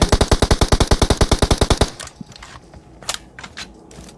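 A loud, close burst of rapid automatic fire in a shooter video game, about twenty evenly spaced shots, followed by quieter scattered distant pops and game noise.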